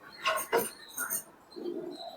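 Soft pigeon cooing, a few short low murmuring calls close by with faint rustling, no talking.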